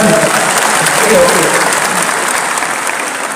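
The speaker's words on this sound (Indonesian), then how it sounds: "Tepuk tangan dulu buat Mas Gibran." Loud, continuous crowd applause fills a hall at a political victory consolidation rally for Prabowo and Gibran, steady throughout with voices mixed in beneath the clapping.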